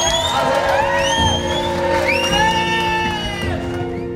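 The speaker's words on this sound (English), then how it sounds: "please put your hands together with a massive round of applause" Wedding guests erupt in loud cheering, with repeated rising whoops and shouts from several voices over a busy crowd clamour, lively and close throughout.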